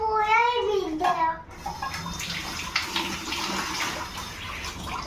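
Water runs steadily from a household tap in a continuous close splashing rush, after someone speaks briefly at the start.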